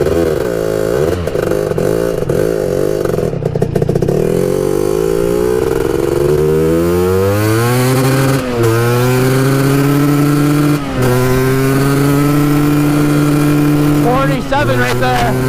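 A Honda TRX250 ATV with a big bore 330 engine revs hard and close, its pitch climbing steadily through the gears in long sweeps with brief dips at shifts, loud and continuous throughout.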